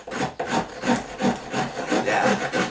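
Rough tool shaving wood off the bottom edge of a door: repeated rhythmic rasping strokes, about seven back-and-forth scrapes, close and fairly loud with no talk.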